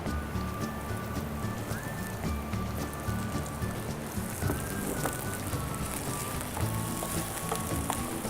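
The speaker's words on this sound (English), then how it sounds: "You fry them for about 2 to 3 minutes." Capsicum and onion fry in a pan with a continuous crackling sizzle, dense and even from start to finish, with no talk.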